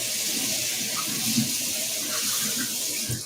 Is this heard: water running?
yes